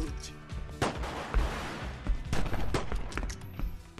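Bursts of gunfire in the video game Grand Theft Auto: Vice City during a bank job, sharp shots and rapid volleys scattered irregularly over a busy game soundtrack, fairly loud and without talk.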